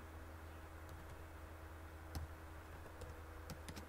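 Someone types on a computer keyboard while coding during a programming practical exam. Faint scattered key clicks and taps sound irregularly over a quiet room hum.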